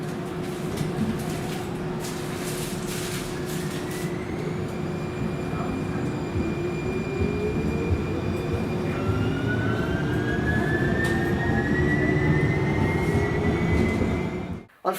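A Siemens S70/S700 light rail train's propulsion gives a whistly ringing sound, several thin tones sliding upward over a steady loud rumble for about fifteen seconds, close and without talk.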